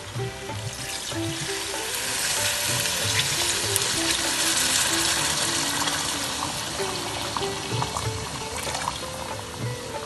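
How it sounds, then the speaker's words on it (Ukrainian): Water is poured into a pot of rice for Indian pulao, giving a continuous hissing, bubbling wash of sound close up that swells slightly in the middle and carries on steadily throughout, with no talking. "І зараз ми вливаємо водичку."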